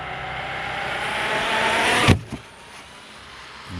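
Arrma Kraton 8S RC car driving, its electric motor whining steadily and loud for about two seconds, then cutting off with a thump as it lands, followed by quieter rolling and a faint restart.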